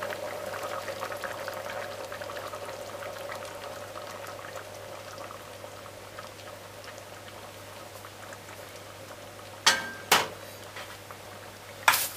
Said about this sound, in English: Cover this, and we're going to just let it simmer